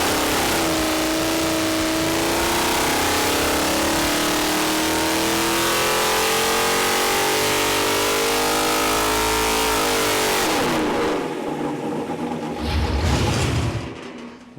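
A 408ci Windsor stroker V8 with a Quick Fuel carburetor and 1 3/4 inch headers roars on a dyno, holding a loud sustained pull with rising pitch, then cutting off abruptly and idling down alone.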